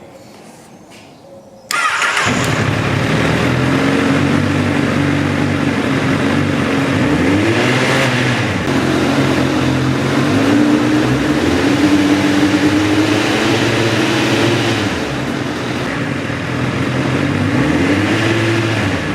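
A Honda CBR 1000RR sportbike fires up after a starter crank, then holds a loud, steady engine note with several rising and falling revs above idle, close by and with no talking.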